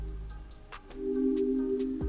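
A soft synth pad built in FL Studio plays sustained trap-beat chords, the second chord swelling in and holding steady, with faint ticking percussion above, no voices.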